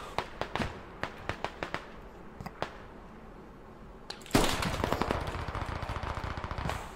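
Squad gunfire on the Goose Bay map: sharp scattered single shots crack out over the first four seconds, then a loud, dense burst of rapid automatic fire erupts close by and continues to the end.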